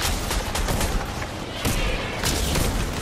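A sniper rifle shot rings out in Fortnite, a loud dense burst of gunfire and booms filling the whole stretch with no pauses.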